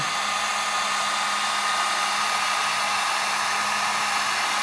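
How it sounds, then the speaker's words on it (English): Heat gun blowing steadily on UV epoxy filling cracks in a live edge wood slab, a constant loud airy roar with a low hum running unbroken throughout, no voices. "I'm going to hit it with a heat gun."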